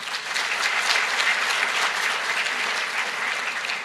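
An audience at a university convocation in Islamabad claps steadily, a dense, even wash of applause from a large crowd with no speech over it.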